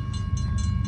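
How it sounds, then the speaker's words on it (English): A freight train hauling tall-sided gondola cars loaded with trash rolls past at an interchange on the Wheeling and Lake Erie Railway, giving a steady low rumble with rhythmic wheel clatter and a faint high tone. "So this train's got a bunch of cars on it, big tall side gondola cars that have trash in them"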